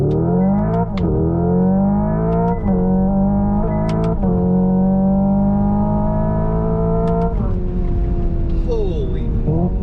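Hyundai Ioniq 5 N electric car at full throttle, its loud synthetic engine-like tone climbing steadily in pitch through simulated gear shifts, close and continuous with brief breaks between rising sweeps.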